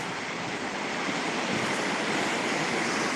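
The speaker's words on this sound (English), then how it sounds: "See the waves?" Ocean waves break and wash along the shore at Cartagena, Colombia, a loud, steady roar of surf with wind rushing across the microphone.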